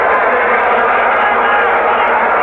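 A football stadium crowd at a 1984 USFL divisional playoff between the Wranglers and Gamblers, a steady broad roar of murmuring spectators with no distinct peaks, heard under a commentator's voice.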